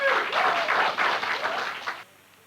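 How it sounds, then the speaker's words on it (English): A large crowd applauds Geraldine Ferraro's announcement of her Senate candidacy, a dense wash of clapping that holds for about two seconds and then cuts off abruptly. "that was the large crowd in raptures over the announcement"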